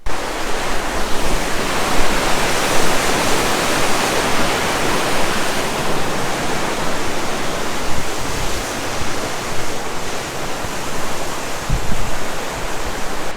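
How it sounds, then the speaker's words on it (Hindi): Waterfall in Fulufjället National Park, Sweden, a loud, dense, unbroken roar of falling water heard up close, steady throughout with no voices. "ये है वो वाटरफॉल जिसके लिए हमने 400 किलोमीटर तक ड्राइव की"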